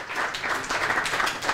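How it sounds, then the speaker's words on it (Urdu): A studio audience claps at a Ramzan television transmission: steady, moderately loud applause from a crowd with even texture throughout, and no clear talking on top. "تالیاں بجا دیجیے جی"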